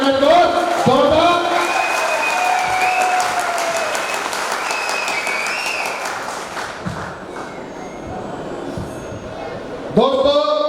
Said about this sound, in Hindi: मैं चाहूंगा एक जोरदार ताली हो सर के लिए।